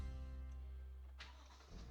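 A Gen 3 Toyota Tundra truck's engine cranks and fires once, a brief starter burst followed by a low idle rumble, heard close and fairly quietly.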